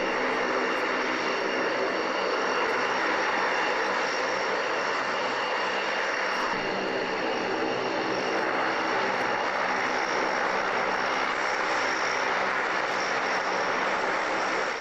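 An aircraft arriving alongside an Su-27 gives off a loud, continuous engine roar that stays dense and steady, with a slight swell partway through.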